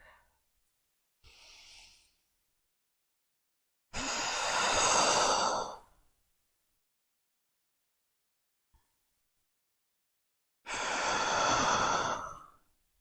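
Deep yoga breaths accompany spinal wave movements: a brief quiet breath, then two long, loud, close airy breaths spaced several seconds apart, with near silence between them.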